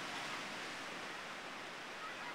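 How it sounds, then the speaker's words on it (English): Ocean waves wash onto the sand at Avila Beach, a steady soft hiss of surf without distinct breaks, faint and continuous throughout. "The waves are sizzling, they're splashing."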